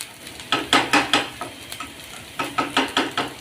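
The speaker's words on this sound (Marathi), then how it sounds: "आपला कांदा परतून चाललेला आहे" Chopped onion sautéing in a pan for a kantroli (spiny gourd) vegetable dish, with a steady sizzle under repeated scraping strokes of a spatula, close and fairly loud, and no talking.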